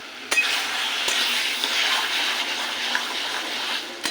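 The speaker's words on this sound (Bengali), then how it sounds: "কচুর শাকটা এইভাবে ঘুরিয়ে ঘুরিয়ে নাড়লে পুরোটা ভালোভাবে নাড়া যায়" Taro leaves cooked with a hilsa fish head are stirred in a pan, a steady wet scraping and soft sizzle with a couple of sharp utensil clinks against the metal.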